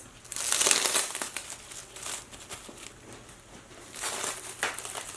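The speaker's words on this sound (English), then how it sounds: "is to wrap this up using some of this plastic wrap" Plastic wrap crinkling close up as it is wrapped around tie-dyed sock yarn, with loud bursts of crumpling at the start and end and softer rustling in between.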